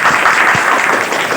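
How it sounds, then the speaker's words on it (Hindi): A group of young children at a play school clapping along together, dense continuous applause that is loud and close throughout the short burst. "ताली बजाते"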